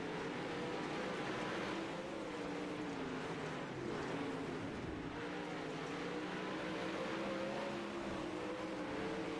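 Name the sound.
race car engines at Kokomo dirt track heat race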